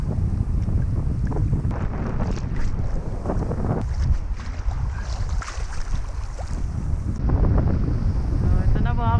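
Strong gusts batter the microphone at a windy, choppy fishing spot, producing heavy, rumbling wind noise throughout, with faint water or boat sounds beneath.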